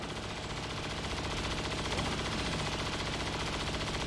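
Suppressive machine gun fire in XCOM 2 rattles in a fast, unbroken stream of shots, loud and close, holding steady for several seconds with no talk over it.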